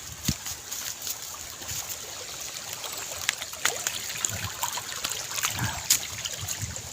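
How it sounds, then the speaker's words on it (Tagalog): Water trickling and flowing down a mountainside over rocks, a steady soft babble with small splashes, fairly close and moderately quiet, no talking. "May agos galing sa taas ng bundok."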